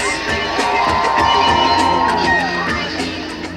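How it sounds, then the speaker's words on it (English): A large arena crowd at a monster truck show cheers and whoops, a loud sustained roar of voices with shouting and a rising yell near the middle, clapping blended into the din. "a round of applause for the Stars of Monster Madness"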